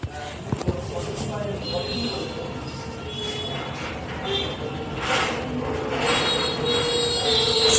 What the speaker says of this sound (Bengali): স্পিড আবার বেড়ে গিয়েছে ট্রেনের।